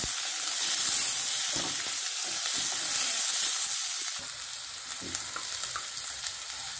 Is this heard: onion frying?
yes